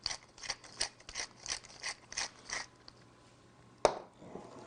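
A pepper grinder cranks out black pepper over mashed potatoes in about nine quick, evenly spaced ratcheting bursts, close and fairly quiet, followed by a pause and a single sharp knock.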